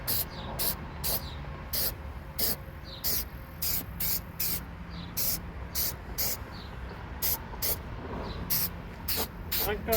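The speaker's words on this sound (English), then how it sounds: "do a test spray on the ground" A spray paint can lets out a series of short test bursts onto the ground, sharp hissing puffs repeated in an irregular rhythm, close by, with a voice talking faintly between some of them.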